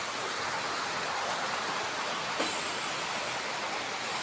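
Heavy rain pours down in a steady, dense roar with a brief faint click partway through, and no voices are heard.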